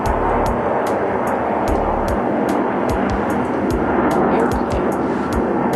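Airplane flying overhead, a steady broad engine roar filling the whole stretch, with scattered clicks and thumps in the foreground.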